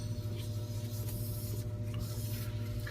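A Central Pneumatic 92924 vacuum brake bleeder draws brake fluid out through an open bleeder, giving a steady hissing, sputtering suction with a constant pneumatic hum underneath and no speech.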